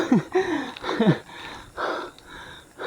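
A cyclist panting hard after a steep climb on a rough rural road near Iriga in the Philippines: several close, ragged breathing bursts with voiced gasps, unevenly spaced.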